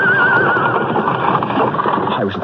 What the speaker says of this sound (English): Driver, rein in your horses!